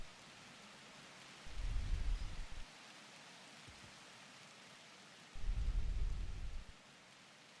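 Rain falls steadily in the Universim game, a soft, even hiss in the background, while two deep thunder rumbles, each about a second long, roll in a few seconds apart.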